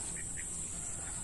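Ducks quack near a house where a 5 HP electric motor is being fitted to a surface water pump, a few short nasal calls over steady background noise.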